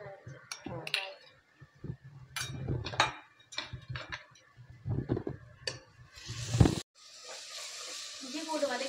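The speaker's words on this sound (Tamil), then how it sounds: "இஞ்சி பூண்டு பேஸ்ட் போட்டு கோல்டன் ப்ரௌன் ஆயிடுச்சு." Ginger garlic paste sautés with onions for prawn biryani, with intermittent sizzling, utensil scrapes and clinks, and a louder burst of frying toward the end, while people talk nearby.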